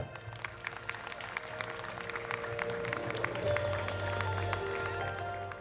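An audience at a school annual day function claps in welcome for a foundation trustee, a dense, sustained patter of many hands with a low hum running underneath throughout.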